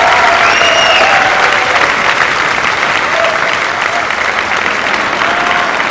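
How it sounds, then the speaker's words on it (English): A large audience applauds at the Neenah Joint School District Gold Tassel 2013 graduation ceremony, a loud, dense wash of clapping held steady throughout, with faint cheers rising over it. "we should give him a big round of applause"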